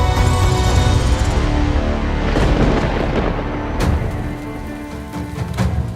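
Torrential monsoon rain pours down in Odisha, India, a loud, dense, continuous roar of water on surfaces, with deep rumbling thunder rolling beneath and a sharper crack partway through.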